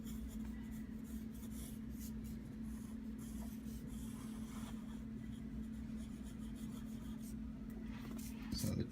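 A pencil drawing a figure's heel on paper gives a soft, close scratching and rubbing that runs steadily over a constant low hum, ending in a slightly louder stroke.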